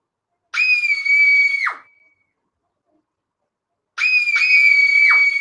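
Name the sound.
lots of screaming during a quiz show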